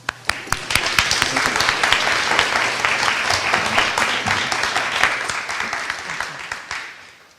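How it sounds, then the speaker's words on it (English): Applause for the panelists at an Indigenous digitization forum, a room of people clapping steadily with sharp individual claps early, then gradually thinning and fading out. "let's give them another round of applause"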